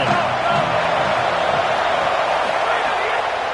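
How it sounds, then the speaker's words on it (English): A home football crowd roars loudly in a stadium, a dense, continuous wall of cheering and shouting that holds steady throughout. "how nice is it to have the home crowd going absolutely bananas?"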